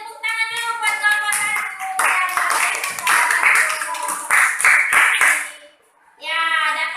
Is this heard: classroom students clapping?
yes